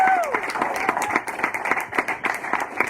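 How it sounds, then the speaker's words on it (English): A round of applause for a graduate at a workforce development course graduation, brisk clapping from a modest group with audible individual hand strikes. "So let's give Kate a massive round of applause."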